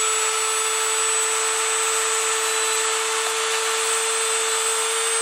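A small Dremel rotary tool with a diamond bit grinds down stainless braided hydroboost line on a Foxbody Mustang, a loud, steady high-pitched whine held close and unbroken throughout.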